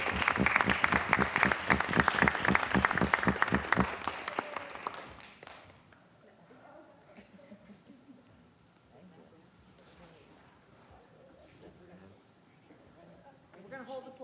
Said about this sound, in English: We're going to hold applause till the end.